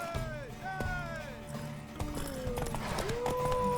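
Horse hooves clip-clop along with a neigh in the video game The Witcher 3: Wild Hunt, under overlapping voices and background game sound.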